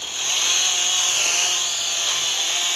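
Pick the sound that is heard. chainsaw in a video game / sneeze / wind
chainsaw in a video game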